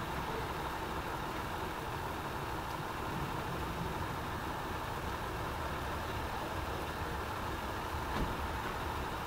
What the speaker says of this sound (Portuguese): o caminhão continua parado ali com o motor ligado,